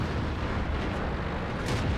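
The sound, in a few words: tank gunfire in the video game World of Tanks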